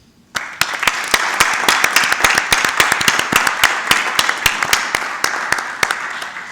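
Audience applause at a literary and journalism talk at an Ateneo cultural club, starting abruptly and holding as a loud, close run of distinct claps, with individual sharp hand strikes prominent against the general clapping.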